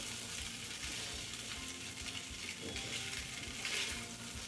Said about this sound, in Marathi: लो टू मिडियम फ्लेमवरती आपण 2-3 मिनिटं ही खिचडी परतून घेऊयात